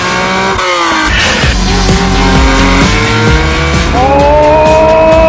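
A Lancia Stratos rally car with a Ferrari engine drives hard nearby, its loud engine rising and falling through gear changes, with tires squealing.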